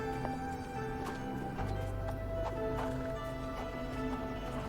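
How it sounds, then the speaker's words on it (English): Horse hooves clip-clopping in a video game, a slow irregular series of light knocks over a low ambient hum, moderately close. "Not what I would think is an ideal spot for a horse to hang out"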